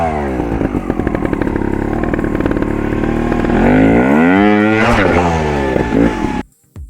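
A Vertigo Nitro trial motorcycle in third gear climbs a steep step on a dirt practice course, engine buzzing loud and close, rising into a hard rev before cutting off abruptly near the end.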